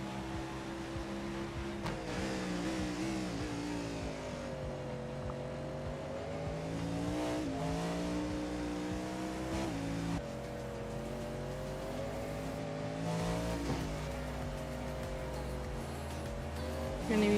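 Race cars lapping the Sebring circuit during a practice session, their engines a steady, fairly quiet whining drone that rises and falls in pitch through gear changes, with no talk over it.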